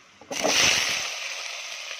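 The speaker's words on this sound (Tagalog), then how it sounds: "Gisa natin yung bawang guys. Lagay natin sibuyas sa matis guys." Chopped garlic and onion hitting hot oil in a pan, a sudden loud sizzling hiss that swells and then settles into a steadier frying crackle, close up, with no talk.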